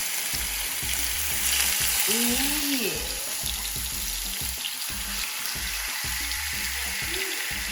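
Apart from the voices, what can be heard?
chicken sizzling in a frying pan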